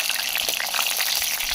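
Garlic and green chilli hit hot oil in a heated kadhai, giving a loud, steady spitting sizzle with crackling pops throughout, close and continuous with no talk over it.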